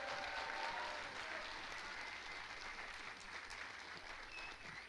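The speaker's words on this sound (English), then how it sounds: "Okay, clap it up." A group claps steadily to celebrate a student on his college decision day, a dense, continuous applause filling the room at close range, with no clear voices over it.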